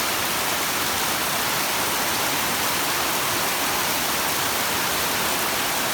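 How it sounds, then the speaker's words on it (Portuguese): Heavy rain pours down steadily at the start of winter near a farm with chicken coops, a dense unbroken hiss that stays loud and even, with no voices. "A chuva tá vindo de cima."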